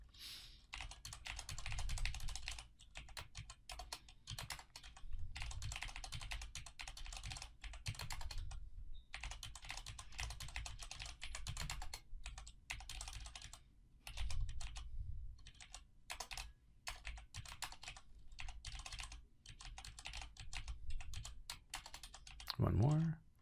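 Rapid, continuous clacking of keys on a computer keyboard in uneven bursts, with someone talking quietly over the typing.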